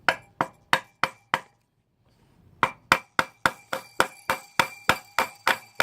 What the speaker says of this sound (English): This hammer actually feels like it has a little bit more leverage.